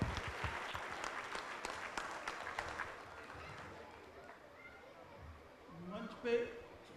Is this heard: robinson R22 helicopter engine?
no